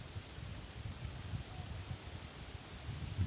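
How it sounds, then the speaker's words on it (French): Wind blows through trees beside a lake, making a faint, steady rustle over a low, gusty rumble, with no voices. "avec ce vent, c'est un peu le langage des arbres"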